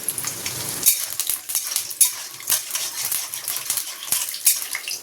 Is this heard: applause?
no